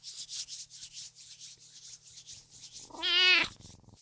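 Hands rub briskly together to warm up in rhythmic, rasping strokes, with a cat's meow at the end.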